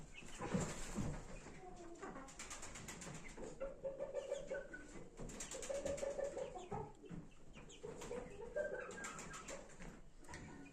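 Several Indian game roosters crow repeatedly, close and fairly loud, amid clucking and other bird noise in a busy coop.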